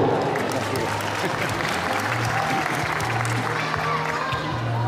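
Loud, continuous audience applause fills a municipal celebration ceremony in São Sebastião do Umbuzeiro, steady clapping throughout with a voice faintly heard underneath.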